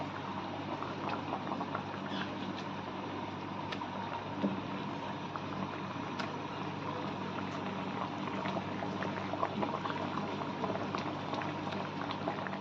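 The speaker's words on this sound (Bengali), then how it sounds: "ঝোল আমাদের ভালোভাবে ফুটে গেছে, এবার আমরা একে একে পাবদা মাছগুলো, ভাজা পাবদা মাছগুলো ঝোলেতে ছেড়ে দিচ্ছি।" Fish curry gravy for pabda fish bubbles at a steady rolling boil, a dense, quiet, continuous burble of popping bubbles close by with no voices.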